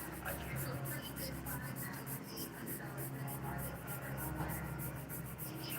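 Frozen chocolate chip ice cream is shaved across back and forth, giving a close, continuous soft rasping and scraping that rises and falls in a steady rhythm, quiet and without talk.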